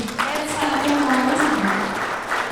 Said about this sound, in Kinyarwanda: Reka tumwongere amashyi